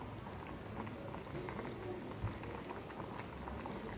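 Hilsa fish curry with added mustard oil simmers in a pot, giving a soft, continuous bubbling and popping at low volume with no voices.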